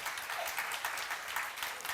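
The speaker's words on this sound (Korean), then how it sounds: "박수로 나와주세요." A congregation at a church seminar claps, a soft, fairly distant patter of many hands lasting a couple of seconds.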